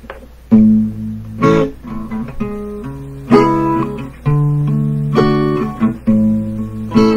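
Sustained instrumental chords change in sequence, moving from a home chord to one a third above, played steadily with clear harmonic shifts and no talking.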